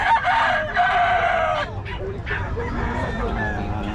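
A rooster crows loudly and close at a chicken sale, with a strained, drawn-out call in the first second and a half. Clucking and murmured voices in the background continue afterward.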